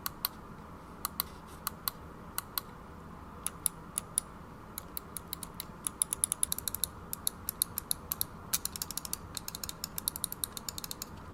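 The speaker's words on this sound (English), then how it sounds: "Now, all the buttons have a nice clicky feel to them," Rapid sharp clicks from the buttons of a Corsair M65 RGB Elite gaming mouse with an aluminum body, pressed singly at first, then in quick dense bursts, close and crisp against a quiet background.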